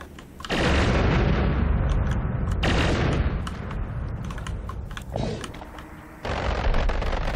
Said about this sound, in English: It's a little bigger of an explosion than you're perhaps used to.